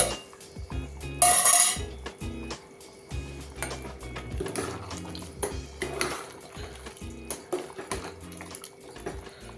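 Masala being mixed into mutton curry in a pot, with repeated clinks and scrapes of a metal spoon against the pot in an uneven rhythm, close and fairly loud.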